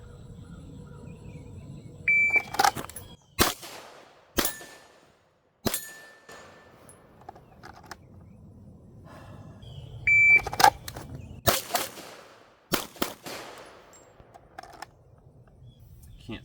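A pistol fires at steel and paper targets in a string of sharp, loud shots, some close together and some spaced apart. Faint electronic beeps sound between them.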